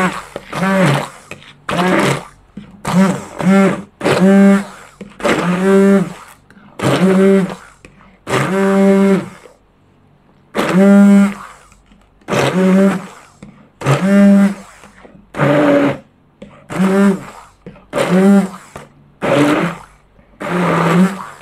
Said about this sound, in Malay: Kita akan pakai blender tangan ni.